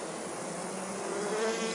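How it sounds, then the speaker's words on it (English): Bees swarm around an open beehive while a new bee emerges from the comb, a dense, continuous buzzing close by, steady and slightly swelling toward the end, with no talk. "At the tip of the hive tool, that is a new bee emerging"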